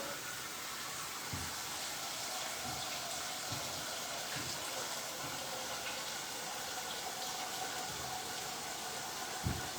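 Water runs steadily from a tap while a pot is rinsed out in a kitchen sink, a soft continuous hiss with faint occasional low knocks, no voices.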